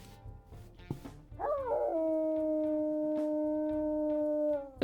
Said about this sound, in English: a bit of a deeper, pretty dramatic howl